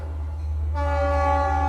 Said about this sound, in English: sorry about that, the Long Island Railroad.